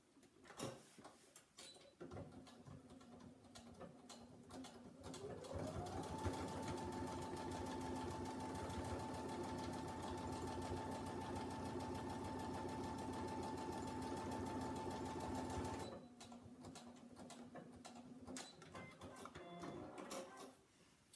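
A sewing machine runs a straight seam on fabric for a Christmas wreath, a steady close whirr holding for about ten seconds between quieter handling noises, with no talk.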